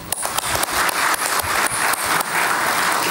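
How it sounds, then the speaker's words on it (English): Round of applause from a graduation day audience, a steady crowd of hands clapping with a few sharper close claps near the start. "it's very befitting for us to give that big round of applause"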